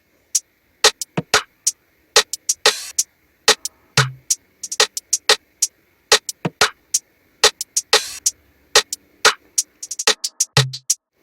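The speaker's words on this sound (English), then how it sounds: "And without the kick they sound like this." Dancehall drum loop from FL Studio 20 with the kick removed, leaving sharp claps, snares and hi-hat ticks in a skipping syncopated rhythm, with a couple of brief low tom-like blips, moderately loud with no voices.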